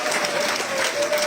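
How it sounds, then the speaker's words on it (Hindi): A short burst of dense audience applause at an event in Karachi, a continuous wash of many hands clapping at once. "तालियां बजाएं भाई।"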